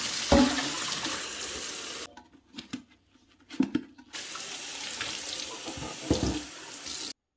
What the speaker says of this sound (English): It says to rinse this filter for 60 seconds.